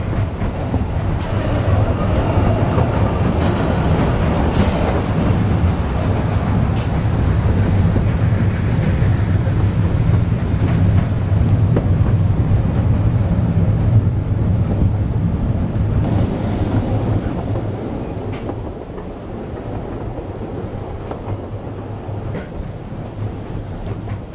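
A Welsh Highland Railway train climbs the Aberglaswyn Pass along cliffs and a river, a loud continuous rumble of wheels and carriages with rhythmic clatter, easing slightly softer toward the end.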